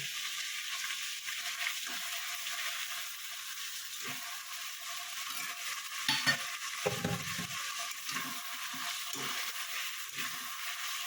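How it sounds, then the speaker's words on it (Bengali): Ginger, garlic and green chili paste sizzles and spits steadily in a pan throughout, with brief stirring scrapes and a louder flare of frying in the middle; no one speaks. "এবার আমি আদা রসুন আর কাঁচা লঙ্কা বাটাটা দিয়ে দেবো"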